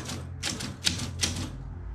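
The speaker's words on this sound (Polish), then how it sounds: "Maszyna do pisania." Old mechanical typewriter keys strike in a few sharp, separate clacks with an irregular rhythm, heard close and fairly quiet against a low room hum, with no talking.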